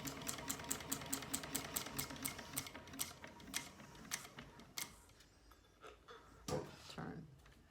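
A sewing machine stitches a fabric seam with a fast, even mechanical patter that slows and breaks into sparse clicks and thumps, fairly quiet and close.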